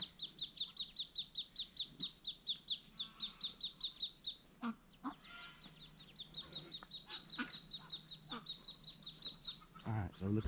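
A protective mother duck calls out repeatedly near her ducklings in the woods, a fast series of sharp, rhythmic quacks and squawks close by, with brief knocking and rustling partway through.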